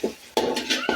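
Cardamom and cinnamon being stirred in a cooking pot as they fry, with three sharp metallic scrapes and clinks of a spoon against the pot, close and fairly quiet.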